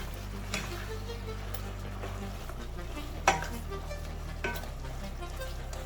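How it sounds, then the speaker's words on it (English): Chicken sukha with fresh coriander sizzles in a frying pan as it is stirred, giving a steady hiss with occasional sharp utensil knocks against the pan under a low background hum; close, with no talking. "Mix this well."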